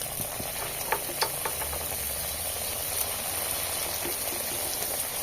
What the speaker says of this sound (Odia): ଏବେ ଆମେ ସବୁ ମଣ୍ଡା ପିଠା ଗୁଡାକ ଛାକିବା